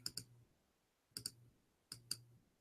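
Keys tapped on a computer keyboard, three separate pairs of quick, crisp clicks spaced evenly about a second apart, close and quiet with no talking.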